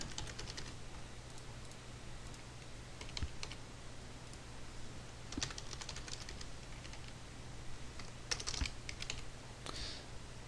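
Quick bursts of clicking keys on a computer keyboard as someone types a name and password, fairly faint and close, with short pauses between runs of keystrokes.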